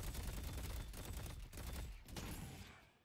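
Rapid automatic gunfire from a weapon shooting at minions and souls in the video game Deadlock, a dense steady stream of shots that eases off briefly around the middle and tapers near the end, with no talking.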